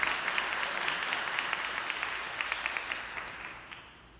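Applause from a church congregation at a religious seminar, a dense steady wash of clapping that slowly fades toward the end.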